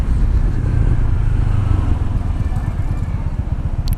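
A Honda PCX 125 scooter engine on a road test ride, a steady low droning hum with slight revving, close and loud beneath continuous wind rush.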